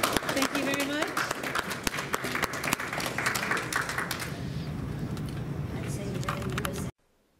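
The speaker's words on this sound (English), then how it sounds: "a big round of applause for Tim" An audience applauds artist Timothy E. Wagner at a collage art event held by a North St. Louis County arts nonprofit. Dense, steady clapping fills about seven seconds and then stops abruptly.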